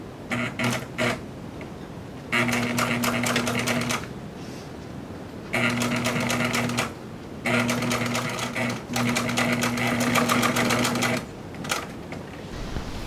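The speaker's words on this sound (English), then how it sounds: "the second piece of leather is placed on top and joined with a stitch going through all three pieces" An upholstery sewing machine stitches through three layered leather pieces to form a piping seam for a custom leather interior. About four rapid, mechanical bursts of stitching are separated by short pauses, close and clear over a quiet room.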